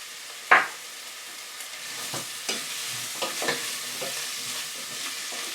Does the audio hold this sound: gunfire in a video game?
no